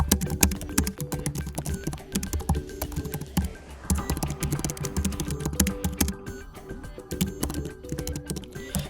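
Rapid, uneven keystrokes clatter on a computer keyboard, close and fairly quiet, in bursts with brief pauses and no talk.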